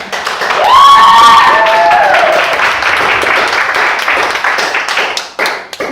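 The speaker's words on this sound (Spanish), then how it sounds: "vamos a hacer un aplauso de avivamiento" A church congregation claps and cheers loudly together, with a shout or whoop rising near the start and sustained dense applause that thins toward the end.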